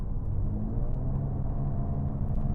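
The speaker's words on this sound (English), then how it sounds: "let me do this with the windows closed. And I put my foot down" A Jaguar F-Type accelerating, heard from inside the cabin with the windows closed: a steady, loud low engine rumble that builds slightly, filling the clip with no talk.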